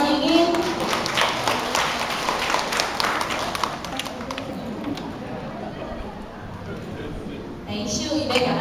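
An audience at a temple hall birthday celebration for elders applauds a students' performance, a dense, continuous patter of clapping that fades gradually toward the end.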